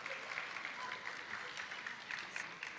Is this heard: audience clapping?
yes